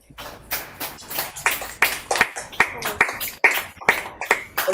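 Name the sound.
audience applauding after poetry performance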